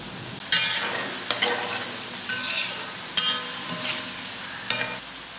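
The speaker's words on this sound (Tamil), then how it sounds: "நான் இன்றைக்கி கடாயில் தான் பொரிச்சு எடுக்க போகிறேன்" Bitter gourd sizzles steadily in hot oil in a kadai on a medium flame, with a spatula stirring it in several sharp scraping bursts over the continuous frying hiss, loud and close, with no talk.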